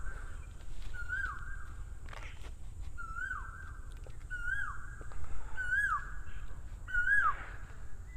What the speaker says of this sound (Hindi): कोयल की चहकने की आवाज़ भी आपको सुनाई दे रही होगी